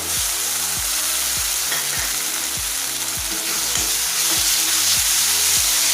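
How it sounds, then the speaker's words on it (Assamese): Spices sizzle loudly in hot oil with onion and tomato paste for an Assamese egg curry, a dense continuous frying hiss with regular scraping stir strokes and no voices. "মছলাখিনি ভজা যোৱাৰ পিছত মই ইয়াতে পিঁয়াজ আৰু বিলাহীৰ পেষ্টখিনি দি দিছোঁ।"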